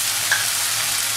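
Fried masala for a Bengali tilapia jhal hisses as mustard paste water is added, giving a loud, dense, steady sizzle up close with a faint brief clink, with no voices.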